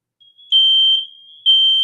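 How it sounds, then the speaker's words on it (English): A shrill, high electronic beep sounds loud and steady, pauses briefly, then starts again, nearby and unaccompanied. "Oh, the smoke alarms."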